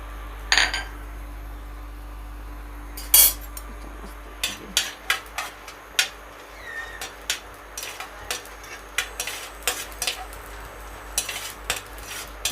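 Whole spices, including cinnamon pieces and cumin seeds, dry-roast in a dry kadai for Odia dalma, with a run of sharp, evenly spaced metallic scrapes and taps of the spatula over a quiet low hum.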